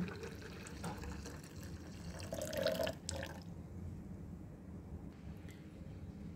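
Water is poured into strained blended cucumber juice in a short trickling stream, close by and fairly quiet, tapering off into light drips.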